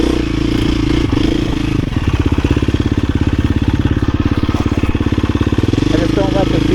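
A 250 or 350 motorcycle engine runs steadily up close with a loud, throbbing pulse, its rhythm tightening partway through, while a voice talks over it.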